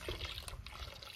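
Rose milk poured in a village kitchen, a soft liquid trickle and splash running steadily and fairly faint.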